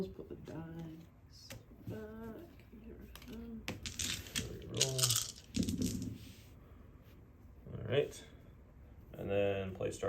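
Dice clatter and tumble on a tabletop during a board game, short rattling bursts between stretches of people talking.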